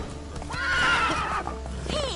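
Roach, a horse in The Witcher 3, gives a loud, close whinny rising and falling over about a second, with faint hoof clip-clop underneath and a brief second whinny near the end.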